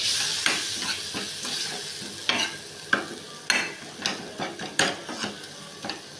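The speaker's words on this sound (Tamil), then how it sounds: "நல்லா கொதிச்சிட்ருக்கு." Thick paneer gravy masala boils in a pan, with irregular bubbling pops and small spattering clicks over a soft, continuous sizzle, heard close and fairly quiet.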